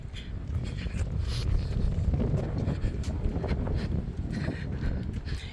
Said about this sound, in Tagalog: medyo mahangin ngayon, ang lamig.